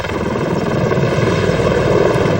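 A V-22 Osprey tiltrotor aircraft flying, its engines and rotors giving a loud, continuous droning roar with a throbbing whine, steady and close throughout, with no voices.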